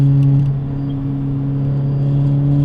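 Mini Cooper S R53 engine droning steadily and loudly from inside the car, a strong low hum with a faint whine on top, holding level throughout.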